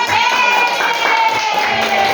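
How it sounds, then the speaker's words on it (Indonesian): Hands clap in a classroom during a peer teaching session, a short burst of scattered, moderately loud claps over a steady background hum. "Oke, tepuk tangan, tepuk tangan."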